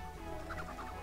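Chickens clucking in the farm video game Pippa Funnell Ranch Rescue, a faint, steady bird chatter of several short clucks over a constant background hum.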